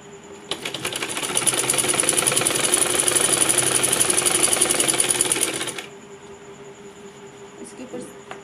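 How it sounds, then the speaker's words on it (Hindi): A sewing machine runs a steady straight stitch along piping on the hem of a salwar, loud and continuous for about five seconds before stopping and leaving quiet room noise. "इसके ऊपर इसी तरीके से सीधी सिलाई लगा लेंगे यहाँ पर पाइपिंग निकालते हुए।"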